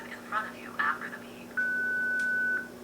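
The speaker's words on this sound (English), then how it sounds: "Please name the person in front of you after the beep." An OrCam 2.0 wearable device gives a synthetic voice prompt, then sounds a single sustained electronic beep tone lasting about a second, clear and close.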